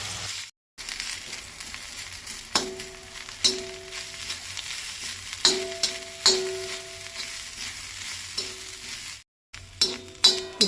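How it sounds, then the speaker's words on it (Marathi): Onion and soya chunks frying in a pan, a soft sizzle broken by repeated scraping stirs and clinks of a spoon, with two short silent gaps. "कांदो आनी सोय तळसून घेवपाक जाय."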